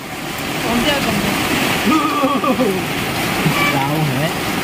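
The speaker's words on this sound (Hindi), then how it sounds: "वरसाद जोरदार वरसी रह्यो है।" Heavy monsoon rain pours down steadily, a dense, loud, continuous hiss with someone talking over it throughout.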